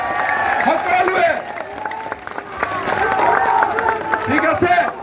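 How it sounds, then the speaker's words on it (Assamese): A crowd at a political rally claps for Suresh Bora, a loud, continuous mass of clapping and cheering with crowd voices mixed throughout. "চবে সুৰেশ বৰাৰ কাৰণে এটা হাত চাপৰি"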